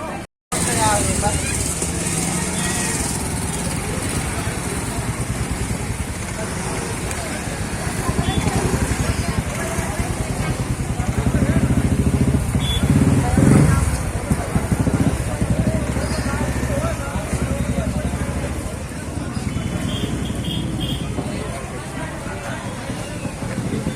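A motorcycle engine idling and revving on a road where a vehicle is stuck, a steady close rumble through the whole stretch, with a crowd of people talking and chattering over it.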